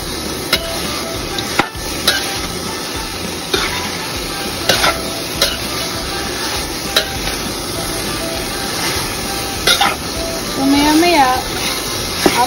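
Menudo with afritada mix stirred in a sizzling pan: continuous frying hiss with repeated utensil scrapes and knocks against the pan, close and loud, with a voice speaking briefly near the end.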